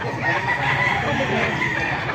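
A crowd of chickens clucks and crows continuously nearby at a market in Baliuag, Philippines, a dense, lively racket with no pauses.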